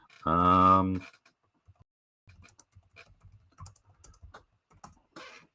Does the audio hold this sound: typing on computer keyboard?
yes